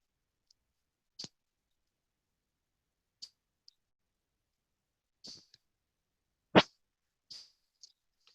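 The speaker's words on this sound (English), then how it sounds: "I hear like a clicking sound." Sharp, isolated clicks break the near silence of a live stream, with about eight of them spaced irregularly and varying in loudness, and no talking.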